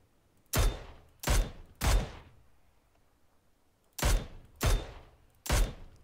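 Kar98K bolt-action rifle shots ring out in a video game: six sharp, loud cracks, three in quick succession, a pause, then three more, each with a short decaying tail.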